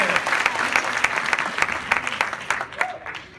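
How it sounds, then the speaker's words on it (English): Audience applause at a workshop, with dense steady clapping from a crowd filling the whole stretch and fading slightly toward the end, with some talk mixed in. "Everybody, let's give her a round of applause."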